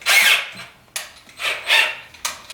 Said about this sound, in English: You can play with the power tools.